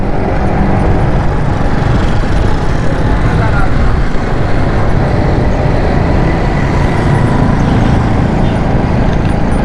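Steady road traffic fills a busy city street near Nazimabad petrol pump, a continuous dense rumble of cars, buses and motorcycles, constant and fairly loud with no single vehicle standing out.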